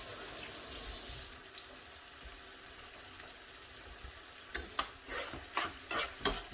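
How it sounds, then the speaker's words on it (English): Chopped, skinned tomato cooking in a pan for chilli garlic chicken, with a steady low sizzle and a few sharp clattering stirs near the end; no talking. "I'm just chucking that into the pan as well"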